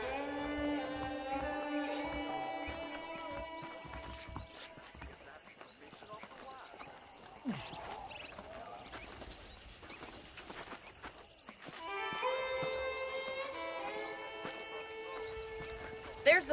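Horse hooves clip-clop at a steady trot in the Western video game Red Dead Redemption, set under game music and voices that come and go across the stretch.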